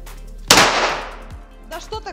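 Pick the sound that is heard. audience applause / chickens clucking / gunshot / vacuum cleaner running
gunshot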